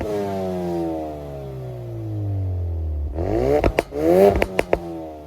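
A 2.0-litre four-cylinder Ford Focus RS, about 350 horsepower with all-wheel drive, holds a steady idle-like drone before blipping into several sharp, loud revs with crackling pops near the end.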